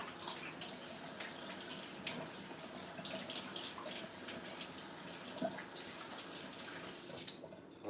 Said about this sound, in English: I'm just going to wash my hand